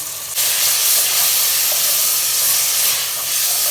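Diced potatoes, red lentils and green chilies sizzle steadily in a hot pan for bhuna khichuri, a loud continuous hiss filling the frame without pause after a brief quieter start.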